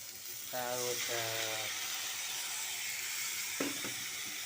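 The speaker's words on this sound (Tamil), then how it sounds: "ஒரு கடாயில் எண்ணெய் ஊற்றி கடுகு தழிச்சிட்டு வெங்காயத்தை போட்டு வதக்கிடுங்க" Onions sauté in hot oil with mustard seeds in a kadai, giving a steady, close sizzling hiss throughout, with a brief voice near the start.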